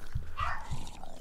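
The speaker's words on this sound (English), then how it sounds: "Sorry about the barking dog." A dog barks a few times close by, sharp low bursts with a brief whine, in the background of a Minecraft LAN session.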